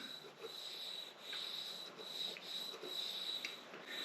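A cleaner is rubbed back and forth along guitar strings to lift rust, giving a faint, continuous close scrubbing hiss with a soft back-and-forth rhythm.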